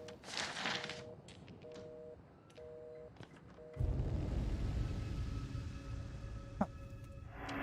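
A telephone in the Outlast horror game is dialed, paired tones beeping in a short irregular sequence, followed by a sudden low rumbling drone and a sharp click, heard alone without speech.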